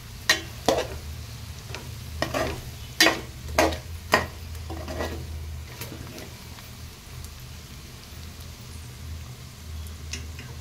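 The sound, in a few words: stirring gongura boti curry in pan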